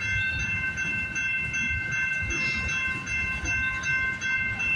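A westbound CP local freight train rolls past close by, a loud continuous rumble and grinding of railcars with steady wheel noise and faint high squeal throughout.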